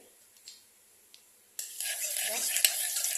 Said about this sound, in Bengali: সবার প্রথমে আমি এখানে দিয়ে দেব জিরা, তারপরে দিয়ে দেব শুকনো লঙ্কা, তেজপাতা